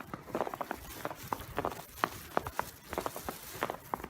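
Footsteps crunching through fresh snow in Istanbul during a February snowfall, an irregular run of sharp, close crunches over a few seconds, with no talking.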